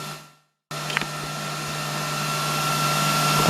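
A Miller welder lays down a beginner's first weld, starting abruptly after a brief silence as a steady, loud hiss with a faint electrical hum that holds on to the end.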